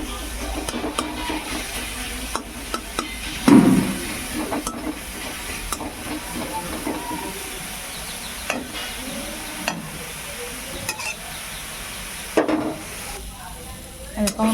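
Leafy greens (saag) sizzle and hiss in a frying pan while being stirred, with scraping spatula strokes and occasional louder clatters over a steady fry.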